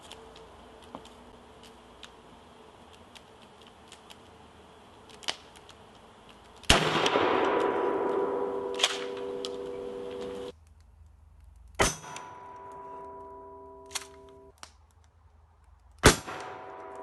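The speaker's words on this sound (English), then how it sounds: "Shotgun." Shotgun blasts fired at a solid core door in an outdoor penetration test, three loud sharp reports with long ringing decays and a few smaller clanks between them, no voices.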